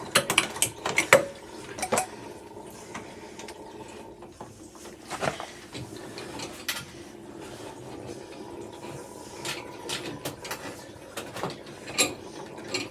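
Worcester boiler 3-port diverter valve parts being fitted back together with a new washer, giving a run of close metallic clinks, taps and scrapes with a faint watery trickle beneath.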